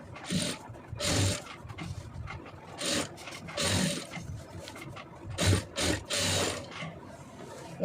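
A sewing machine stitches a thin lace trim onto a simple blouse in a tailoring setup, heard as recurring bursts of rapid mechanical whirring and rasping that start and stop, fairly close, with no talk.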